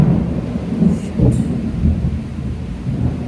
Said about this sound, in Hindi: गंदी बारिश हो रही है।